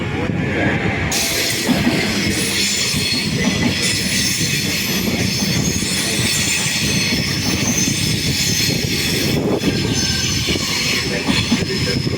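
A regional train at Padova station rumbles steadily nearby with broadband rolling noise and faint high-pitched wheel squeal, continuous for the whole stretch.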